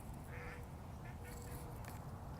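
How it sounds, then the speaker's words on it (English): Two birds calling during mating season, short nasal quacking calls heard close by over a steady rumbling background noise. "those are two birds, and it's mating season"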